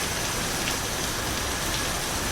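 Heavy rain pours in a dense, steady, loud hiss with no break, filling the whole moment without voices.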